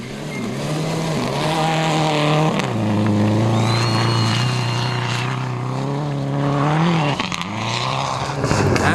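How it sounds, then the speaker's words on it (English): A Subaru rally car engine at the 2005 Rallye Açores roars loud and close for the whole stretch, its pitch climbing and dipping through hard revs and gear changes. "Then it's the first Subaru, driven by Gustavo Loro, the 2004 Azorean Rally champion."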